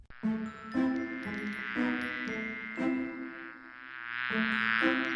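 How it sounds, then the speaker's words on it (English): A cartoon bee buzzes around near the ear in steady, pulsing waves of droning hum, loud and alone without any talk. "Who's that buzzing around my head? It's a bee."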